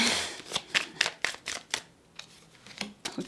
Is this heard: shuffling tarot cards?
yes